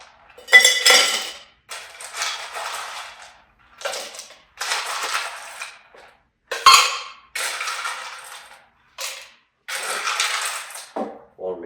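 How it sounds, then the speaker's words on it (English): Ice goes into a metal cocktail shaker tin for a sloe gin fizz, with a series of loud rattling, clinking bursts in separate bunches, one after another, with pauses between. "And we're doing ice now. So we're gonna add ice. And you want to add it to the other"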